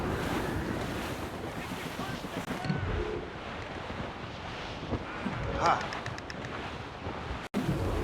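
Wind and ocean waves at sea aboard a sailing ship in the game Assassin's Creed Rogue: continuous gusty wind noise and rushing surf fill the scene, with voices speaking over the constant roar.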